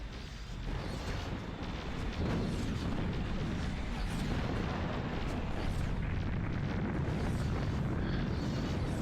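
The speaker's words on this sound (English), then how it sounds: "Good explosion." A deep, rumbling explosion from the space strategy video game Nexus: The Jupiter Incident booms loud and sustained, with crackling debris and heavy low-end roar filling the whole stretch, no voices heard.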